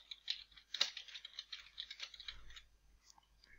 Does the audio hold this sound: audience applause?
no